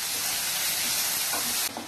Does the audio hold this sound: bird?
no